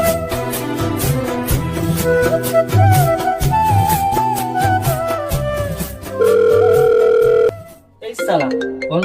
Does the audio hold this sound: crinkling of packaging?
no